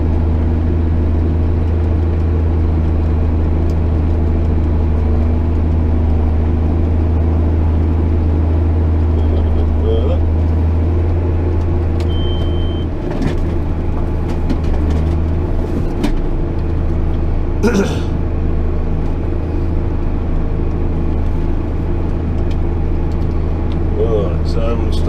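A tractor, an 8250, works a field ploughing from the headland inward, its engine a steady, loud low drone throughout with a few faint knocks and clanks from the implement rising over it.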